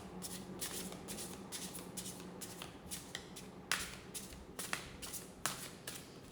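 Large playing cards being shuffled, a steady run of papery riffles and flicks repeated several times over about six seconds, close and moderately quiet with no talking.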